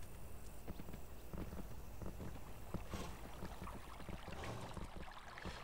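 Horse hooves clip-clop steadily in the Kingdom Classic video game, a continuous busy patter of footfalls mixed with game ambience and water-like texture, with no talk.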